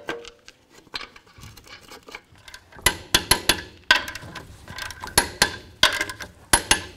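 Rear wheel going back onto a 2004-10 Dodge RAM pickup, with lug nuts being snugged: sharp metallic clinks and knocks, sparse at first, then a rapid run of loud ratcheting taps in bursts, close by with no talk.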